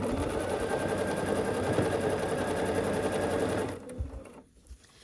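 Home sewing machine stitching a long sawtooth star quilt block, a fast steady whirring run close by that stops abruptly near the end, leaving quiet handling noise.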